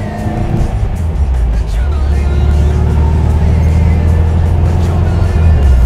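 A vintage bus engine drives and accelerates, a loud, steady low droning hum building gradually, heard close from inside with a voice talking over it.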